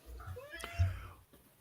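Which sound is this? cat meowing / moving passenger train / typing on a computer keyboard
cat meowing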